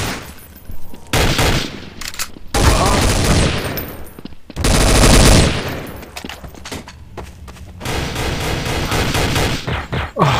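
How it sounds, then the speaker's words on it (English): Gunfire in Counter-Strike: Source, loud bursts of automatic fire and single shots coming in clusters, separated by brief quiet gaps, with a voice talking between the volleys. "Who's shooting?"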